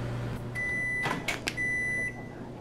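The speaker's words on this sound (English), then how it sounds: "Wait, is my microwave going on?" A microwave oven running in the VR game Job Simulator, with a steady electronic hum and tones, a few brief louder bursts near the middle, and a high beep-like whine that starts and stops.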